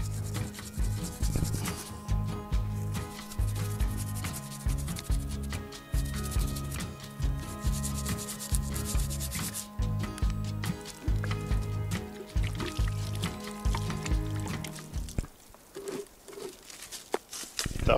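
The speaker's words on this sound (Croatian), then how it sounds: "Znači četkicu obavezno uvijek morate imati uza se, vode je obavezno." A mineral crystal is scrubbed with a brush and water, rhythmic close rubbing strokes with wet patter repeating for about fifteen seconds, then a quieter pause with faint clinks at the end.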